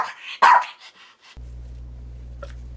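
A dog gives one loud, sharp bark followed by a few smaller yips, then a steady low hum takes over with a faint high squeak near the end.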